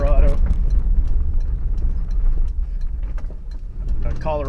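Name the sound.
van rattling while driving on a rough road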